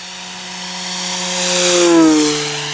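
A Yak-11 RC racing plane zips past with a steady propeller whine whose pitch rises and then drops as it passes, the engine note swelling to a peak near the middle and fading slightly afterward.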